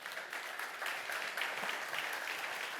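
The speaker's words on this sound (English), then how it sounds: "I would like to make a huge clap" Audience applause at a summer trimming school talk, a steady close patter of many hands clapping throughout without pause.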